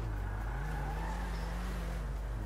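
A car engine in the video game GTA V revs in a steady, droning roar with a slowly rising pitch, close and constant throughout, with no voices.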